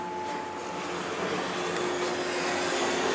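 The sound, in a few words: Montgomery hydraulic elevator submersible pump motor running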